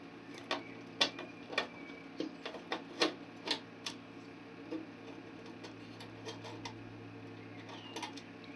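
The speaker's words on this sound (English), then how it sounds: "So I'll undo this screw here." A small screw is undone on a burglar alarm control panel with a keyswitch, giving a quiet run of sharp, irregular ticks and clicks close by.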